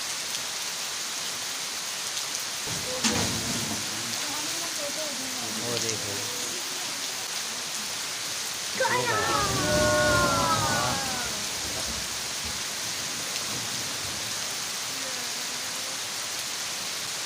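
Heavy torrential rain pours steadily throughout, a constant broad hiss of rainfall on surfaces, with a few people talking briefly over it.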